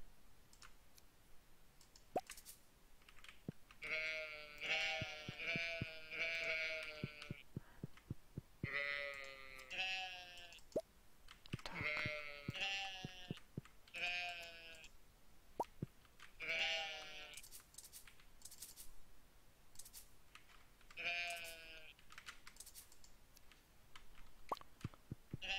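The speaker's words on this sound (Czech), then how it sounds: "Ostříhat ovce, tak to už jsem dlouho nedělala." Sheep bleating repeatedly while being sheared in the Stardew Valley farming game, a series of clear wavering bleats in bursts with soft clicking in between, no talk.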